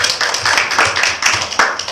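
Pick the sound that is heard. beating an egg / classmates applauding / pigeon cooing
classmates applauding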